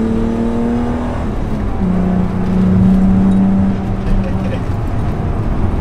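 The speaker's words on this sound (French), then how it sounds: "C'est une vraie sonorité M. C'est la sonorité métallique, rauque." BMW M5 E28 sedan with its M1-derived engine revving, giving a metallic, raspy tone that swells and holds steady, heard from inside the car with someone talking over it.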